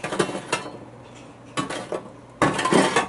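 Meatballs of wild hog and deer meat set into a cast-iron spider skillet make a few close, soft clinks and scrapes, three brief clusters of metallic contact sounds.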